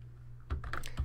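A few quick keystrokes on a computer keyboard while working in a Google Docs document, close and fairly quiet, clustered in a short burst after a brief pause.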